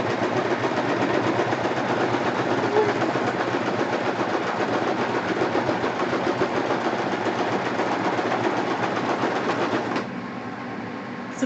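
A sewing machine stitches steadily, giving a dense, continuous mechanical whir with a rapid needle chatter that runs loud and close for about ten seconds, then drops to a quieter hum.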